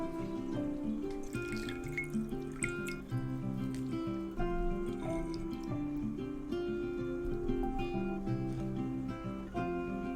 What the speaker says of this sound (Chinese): 那我今天是用湿的，那就是要把它冲洗干净